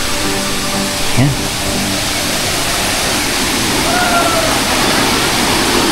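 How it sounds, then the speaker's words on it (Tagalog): Santol Falls in Bailen, Cavite, a waterfall at a tree farm, gives a loud, steady, close rush of falling water that fills the whole clip, with a faint low knock near the start. "Solo natin yung falls dito sa may Bailen. Kung tawag nila dito ay ano eh, Santol Falls."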